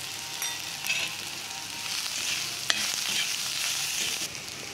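Chili powder, salt and turmeric roasting in a pan, a steady soft dry sizzle with occasional scraping stirs, close and moderately quiet, no talking.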